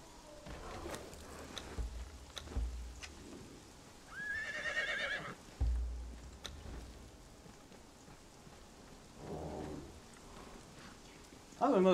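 A horse whinnies once mid-clip in the Conan Exiles survival game, a short warbling neigh over a low rumbling, rain-like game ambience, with a few thumps and a sharp sound at the end.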